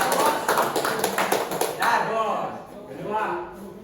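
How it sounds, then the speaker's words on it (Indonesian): Students in a vocational automotive class clap in a short burst of quick, fairly close hand claps that dies away after about two seconds, followed by a teacher talking. "Berikan tepuk tangan ya."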